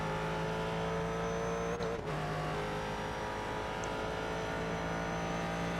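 A race car engine drones steadily in iRacing at Watkins Glen, holding a sustained harmonic whine with a brief dip around a downshift to third, loud and continuous with no talk.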